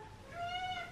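A single domestic cat gives one short, rising meow, close by and clear over faint room background, with no talking.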